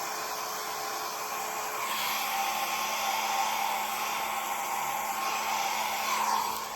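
A hair dryer blows steadily over wet acrylic pour paint, a loud continuous whir that shifts slightly in tone as it is raised and moved, with no talking.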